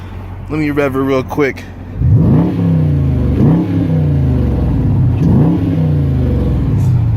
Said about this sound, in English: Let me rev her real quick